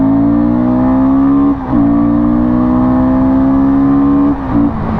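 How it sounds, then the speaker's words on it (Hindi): Royal Enfield Guerrilla 450 motorcycle engine revving hard as it accelerates at high speed, a loud, steady roar with two brief dips for gear changes, close and without talk. "अब मैं इसको बाइक को भगाऊंगा बस"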